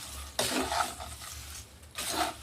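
Fried green chillies are being mixed in a pan, with two bursts of scraping and clattering from a spoon against the metal over a faint sizzle, close and without speech.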